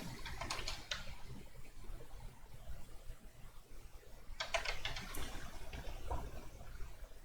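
Clicks on a computer keyboard come in two short bursts of rapid, light taps over a faint room hum, quiet and close.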